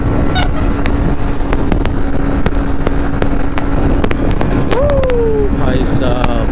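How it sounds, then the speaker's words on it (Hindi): Motorcycle speeding at about 100 km/h on the NH 31 highway in India, a steady close-up roar mixed with heavy wind rush, with a brief whistle-like tone near the end. "अब मजा आ रहा है गाइस बाइक भगाने के बाद, देख रहा हूँ 100 पे चल रहा है"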